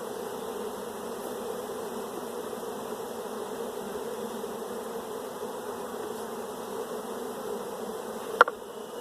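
Honeybees hum steadily around an open hive during a pre-split inspection, a dense continuous buzz close by with one brief sharp knock near the end.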